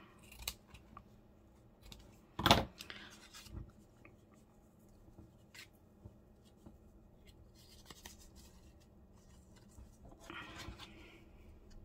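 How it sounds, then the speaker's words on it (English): A single crisp snip of fabric scissors cutting tea-stained lace, close and brief, followed by faint rustling and a few softer handling sounds in a quiet room. "fabric scissors."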